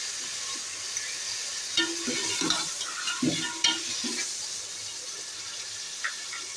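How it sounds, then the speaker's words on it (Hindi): Beef frying in a pot for degi korma, a steady low sizzle with a few scraping stirs and light clatters in the middle, close and fairly quiet. "यहाँ पे बीफ फ्राई हो रहा है।"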